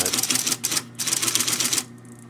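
An IBM Selectric electric typewriter clatters in fast bursts of rapid keystrokes, pausing briefly between runs, with a motor hum underneath.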